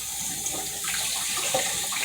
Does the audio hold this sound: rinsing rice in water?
yes